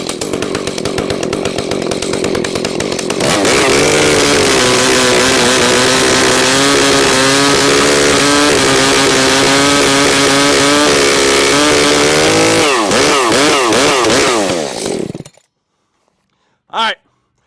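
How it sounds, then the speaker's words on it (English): A large, heavy chainsaw fitted with a milling attachment roars loudly and steadily at close range for about fifteen seconds, its pitch wavering under load before it cuts out, followed by a brief sharp noise. "this is a much bigger, heavier chainsaw"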